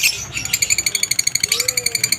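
Lutino and cremino mutation pet birds in a flight cage give a rapid, evenly spaced series of high, ringing chirps, close and fairly loud, with a brief pause midway before the string resumes.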